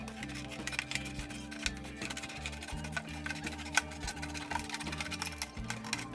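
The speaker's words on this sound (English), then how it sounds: "I will insert my scissors in and just start cutting around" Scissors cutting around a plastic gallon water bottle to make a concrete planter mold, a steady run of small crisp snips and plastic crackles, close and fairly quiet, with no talking.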